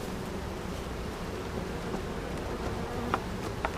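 Honeybees buzz at a hive fitted with a honey super, a continuous close droning hum with brief louder passes of individual bees near the end.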